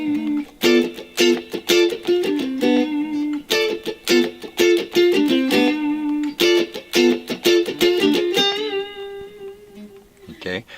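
Guitar riff played with clean, choppy rhythmic strums mixed with picked single notes in a tight funky pattern, ending on a held note.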